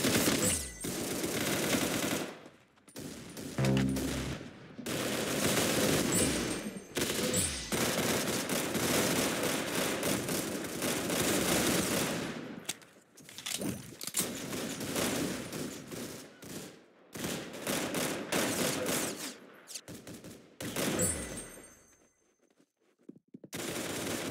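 Rapid gunfire rips out in long, loud bursts of fusillade and machine-gun fire, with short silent gaps between volleys before trailing off at the end.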